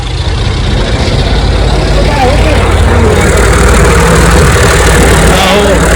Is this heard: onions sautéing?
no